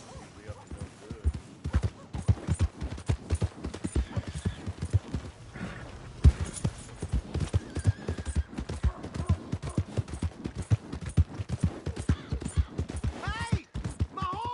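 Horse hooves clip-clop steadily in the Red Dead Redemption 2 video game, with a brief neigh, under game music and character dialogue.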